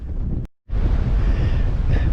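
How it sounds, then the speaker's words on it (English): Strong wind buffets an exposed Pennine hilltop moorland near Kinder Downfall, roaring loud and close against the microphone with a brief complete dropout before the gusting resumes steadily. "it's quite windy here"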